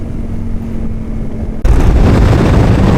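A motorcycle on a sand run in the Simpson Desert: a steady low engine drone with wind noise, jumping abruptly to a much louder, rougher roar as the throttle opens and the bike pushes through the sand.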